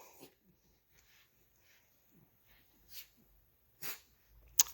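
A dog breathes quietly indoors with soft sniffs, then gives a few short snorts and a sneeze-like burst, close to the mic and faint against an otherwise quiet room.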